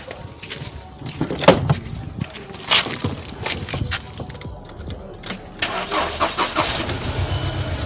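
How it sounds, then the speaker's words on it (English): A car engine cranks and catches after a battery terminal was disconnected and reconnected, then settles into a steady, slightly rough idle, close by and moderately loud, with brief clatter over the running engine. "let me still run the engine and see that the battery is still working fine"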